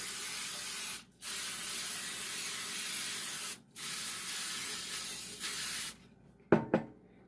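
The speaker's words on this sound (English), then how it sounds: "Our pan's a good spray." Cooking spray hisses onto a baking pan for a Christmas fruit cake in three long steady bursts with brief pauses, followed by a couple of light clanks at the end.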